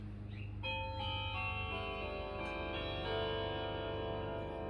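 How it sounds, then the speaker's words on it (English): A chiming clock strikes the opening quarter of the Whittington chime at a quarter past. The bell-like tones ring out close and clear, one after another, each one sustained and overlapping the next, with no voices. "So we're going to start on the Whittington chime, and we'll get a quarter of that chime at a quarter past."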